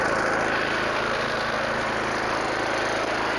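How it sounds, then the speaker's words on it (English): A Toro Greensmaster 1000 walk-behind reel mower for golf greens runs with its reel engaged, a steady close engine hum and whir holding constant throughout, no talking. "I hope you can hear me over the mower"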